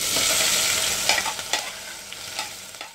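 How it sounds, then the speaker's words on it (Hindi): Onions and green chilies sizzle loudly in a hot pan while being stirred, a bright crackling hiss with quick scraping strokes. "अब प्याज और हरी मिर्चियाँ भी इसमें ऐड कर देंगे।"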